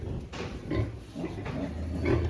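A piglet on a farm grunts and squeals in short close bursts as it is handled, with scuffling noise between the calls.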